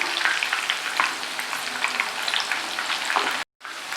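Fish 65 pieces frying in hot oil, a dense steady crackling sizzle up close as the pieces are turned over, cut off by a brief silence near the end before the frying resumes.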